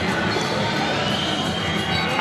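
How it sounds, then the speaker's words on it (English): A wrestling crowd at a Real American Freestyle event in Georgia cheering steadily, a broad, loud wash of voices filling the arena without pause. "As expected, this crowd getting behind it."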